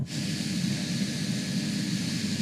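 Pilatus PC-12 turboprop engine idling on the ground in a flight simulator, a steady broadband whine and rush held at constant level without change.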